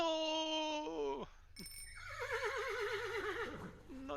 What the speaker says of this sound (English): I love that horse.